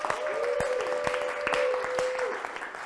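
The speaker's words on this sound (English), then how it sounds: "give yourselves a round of applause" Applause from a class at the end of a Saturday morning wellness session, steady clapping from a small group with a sustained whoop or tone riding over it, fairly close.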